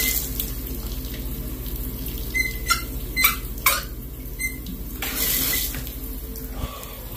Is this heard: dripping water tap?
yes